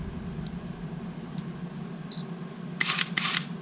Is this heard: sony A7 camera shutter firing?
yes